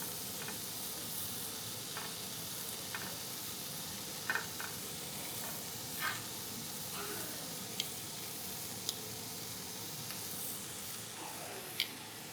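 A lobster tail sizzles in a skillet with a constant, even frying hiss and a few faint clicks and taps scattered throughout.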